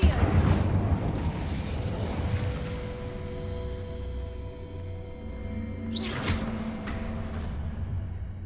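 The Incendio fire spell goes off in Hogwarts Legacy as a roaring, whooshing blast over dense game background, with a sharp flare about two-thirds through and a steady hum of game sound throughout.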